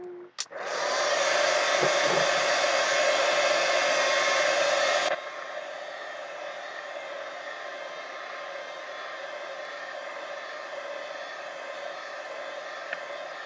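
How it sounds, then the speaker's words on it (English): A heat gun drying paint on a mixed media art journal page roars loudly and steadily for about five seconds, then drops to a quieter, lower setting that hums on evenly with no talking. "heat gun"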